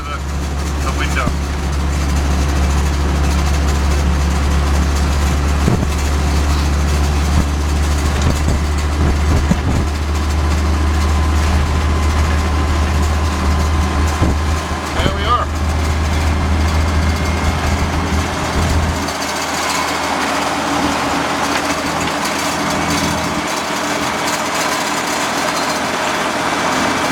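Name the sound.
1963 Land Rover Series 2a engine while driving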